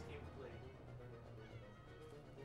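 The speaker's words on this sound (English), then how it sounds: "One of my cats just came to play." A cat meows close by during a video game play session, short vocal calls rising over steady game music and background noise, with a person talking at points.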